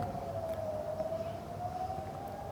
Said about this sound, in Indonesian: sirene peringatan serangan Iran terus berbunyi tanpa henti